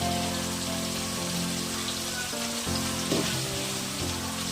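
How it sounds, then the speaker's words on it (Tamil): Chopped tomatoes frying in a hot pan for tomato rice, a steady crackling sizzle like rain on a surface throughout, with some music tones in the background and no talk. "ஸோ இப்போ நான் இதில் ஒரு பவுல் ஃபுல்லாக தக்காளி ஆட் பண்ணிக்கிறேன்."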